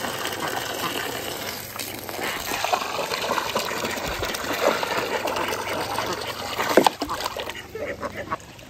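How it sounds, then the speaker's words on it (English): Water gushes and sloshes steadily in a continuous wash as it fills a goat pen's mud hole, with a brief splashy burst near the end and faint voices underneath. "Keep Pepper's mud hole full of water"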